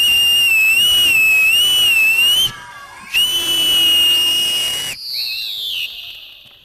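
Parents at a school anniversary celebration whistle loudly in a whistle competition: sustained, piercing shrill tones repeat in long bursts with brief gaps, over a cheering crowd.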